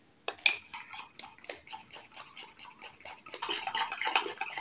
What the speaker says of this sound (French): Et on remue la farine avec l'œuf.